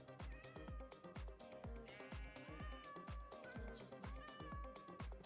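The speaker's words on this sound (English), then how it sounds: "The little meows, yes." A cat's small meows sound over steady background music, the mews brief and fairly quiet, without talk.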